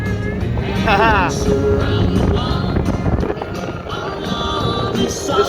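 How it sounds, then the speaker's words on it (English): Gas EZGO TXT golf cart with a Bud Light body cruising along, its engine a steady drone under wind noise and a laugh. "This cart rides nice, sounds good."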